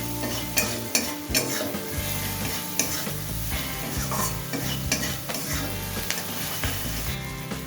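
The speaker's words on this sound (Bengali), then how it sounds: "এবার মশলার সাথে পেঁয়াজ আর টমেটোটাকে ভালোভাবে একটুখানি কষিয়ে নেব" Onion and tomato fry with spices in a pan for lentil-and-bottle-gourd dal, a steady close sizzle broken by repeated scraping stirs and occasional utensil clinks, no voices.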